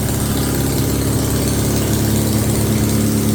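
Loud, steady idle of a Yamaha XJ900F motorcycle engine at first start-up, a close, even rumbling drone with a constant low throb and no variation or voices.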